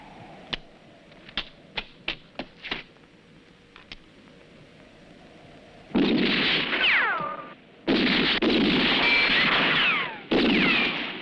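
Rifle gunfire in a film scene: a quick series of sharp single shots, then three long, loud bursts of sustained firing with roaring echoes and short pauses between them.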